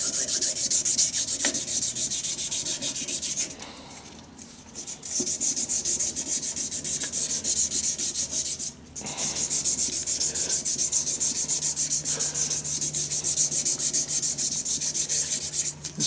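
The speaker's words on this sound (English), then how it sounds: "Give all the little edges a bit of a sand." Sandpaper rubs rapidly over the edges of a wooden shaving brush handle in long continuous passes, loud and close, broken by two brief pauses.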